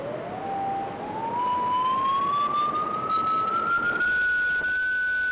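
A steady electronic tone of about 1500 Hz from a signal generator speaker glides gradually upward in pitch, clear and continuous above a soft hiss of background noise.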